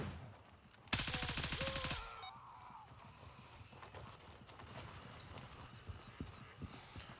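Gunfire in the military shooter Gray Zone Warfare: a loud, dense burst of rapid shots lasting about a second near the start, followed by quieter scattered reports and background game noise.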